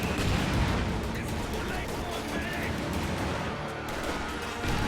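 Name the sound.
rifle grenade and gunfire explosions in a video game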